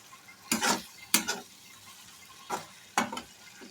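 Spoon stirring fish curry in a pan, with mustard paste just added to a morola fish jhaal chachori: four short scraping, sizzling strokes spaced about a second apart, close and fairly quiet between them.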